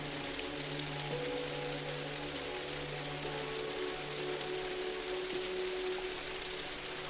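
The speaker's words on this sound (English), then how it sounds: "You go out when it's raining, you get wet." Light rain patters steadily on surfaces at Bradgate deer park in Leicestershire, a soft continuous hiss with faint low hum beneath and no talking.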